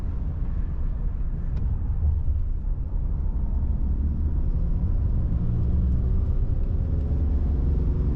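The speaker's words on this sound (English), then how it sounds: "Now I want to try a couple heavy throttle accelerations." A 2025 Ram 2500 with the Cummins diesel pulls hard at full throttle from inside the cab, a steady low drone and rumble holding loud and unbroken throughout.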